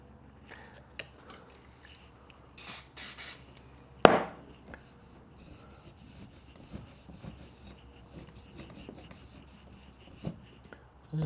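A Tachihara 4x5 wooden camera is rubbed and cleaned by hand in soft, quiet scrubbing strokes, with occasional louder scrapes and one sharp knock. No one speaks.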